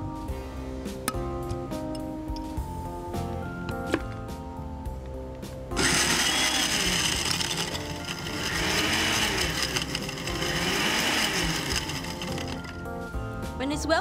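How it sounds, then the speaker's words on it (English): A blender whirs through berries, lime leaf and ice cubes, starting abruptly after a few seconds of background music and running loud and steady to the end, with the motor pitch wavering as the contents churn. "And we're ready to blend all the ingredients together."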